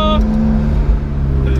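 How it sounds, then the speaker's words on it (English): A loud, steady engine drone from a McLaren 650S Spider driving with the roof down, close and constant, with a slight change in pitch as the revs shift. "I'm sitting here cruising down the road, roof down in a 650S Spider"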